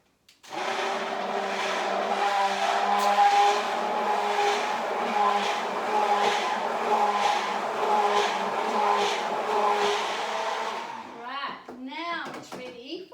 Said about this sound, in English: Going to blend it one last time